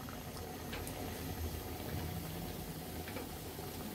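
Jalebi batter of flour and milk powder frying in hot oil over a low flame, a steady, close sizzling and bubbling that runs unbroken throughout.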